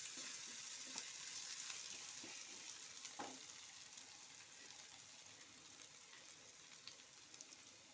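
Chopped onion frying in a pan for a Kerala-style coconut dish, a soft steady sizzle with a few light stirring scrapes, faint and close, no talking.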